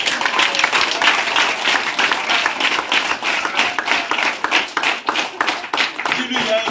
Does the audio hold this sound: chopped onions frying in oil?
no